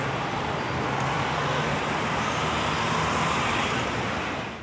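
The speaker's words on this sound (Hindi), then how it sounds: "साथ में हमने साउंड इफेक्ट यूज़ किया है कि गाड़ी रोड के ऊपर चल रही है और ट्रैफिक भी साथ में है।" Road traffic sound effect of a car driving along a road among other vehicles, a steady broadband roar that holds at an even level throughout with no voices.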